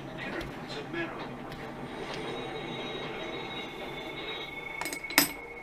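A train rolls past with steady rumbling and clattering, thin metallic squeals from the wheels, and a sharp clanking burst near the end.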